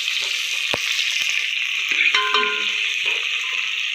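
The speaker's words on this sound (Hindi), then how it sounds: "इसे थोड़ा तेज़ कर देती हूँ मैं, और इसे अच्छे से फ्राई कर लेती हूँ" Onions frying in a pan on a gas stove for a homemade sabzi, a steady close sizzle throughout with a few brief clinks and stirring knocks, no voices.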